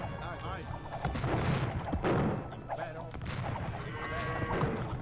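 Bombard cannons and other gunpowder units fire in an Age of Empires 2 fortress battle, dense overlapping booms and crackling shots under constant battle din, with a player talking over it.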